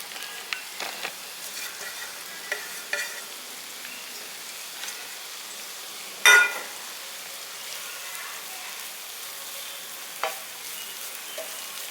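Low, steady sizzling of grated coconut roasting in hot oil, with occasional stirring scrapes and one brief louder clatter midway; no voices.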